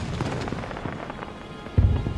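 Weasley's wildfire whiz-bangs go off in the Harry Potter: Magic Awakened game, a crackling run of small pops and bursts followed by a louder booming blast near the end.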